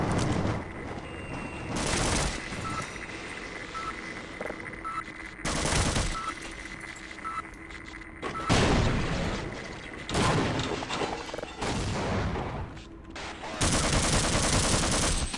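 Gunfire in Half-Life, with repeated loud bursts of shots in separate volleys spaced a second or two apart and quieter stretches of game noise between them.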